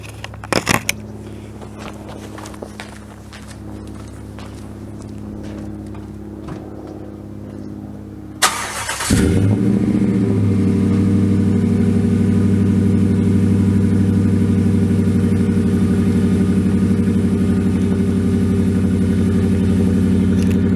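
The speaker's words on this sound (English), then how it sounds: "I'm gonna warm the engine up just a little bit so I don't rev a cold engine" Car engine fitted with a Dynamax stainless steel exhaust, started cold and left idling: a few faint clicks, then a sudden start at about nine seconds settling into a loud, steady, throaty idle that runs on alone.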